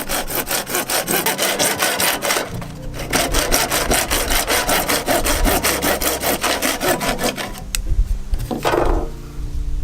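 A hand saw cuts through plumbing pipe for a reef aquarium with steady, loud back-and-forth strokes at a quick even rhythm, pausing briefly before finishing the cut.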